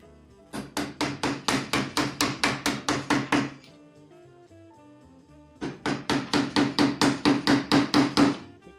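Harbor Freight chisels are struck with steady, evenly spaced hammer blows, two runs of about a dozen ringing metallic hits each, separated by a short pause, close and loud.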